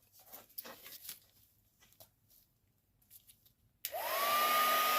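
A hair dryer switches on near the end to dry a conditioned gourd during bowl crafting, its steady loud blowing whine starting abruptly after a few seconds of quiet handling noises.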